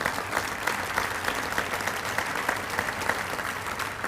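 A banquet audience applauds steadily, a dense, sustained patter of many hands clapping at moderate distance with no break across the stretch.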